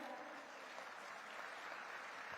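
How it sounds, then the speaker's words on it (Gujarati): A crowd applauds to welcome the Chief Minister at a formal reception, an even, continuous patter of many hands heard faint and distant. "બનાવતા તાળીઓનો નાદ થઈ જાય"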